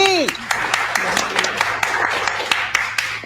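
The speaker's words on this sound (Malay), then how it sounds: "Tepukan untuk SKB." Audience applause for the SKB team at a corporate achievement event, a steady patter of claps with sharp individual hits, mixed with a voice and a short ringing tone at the start.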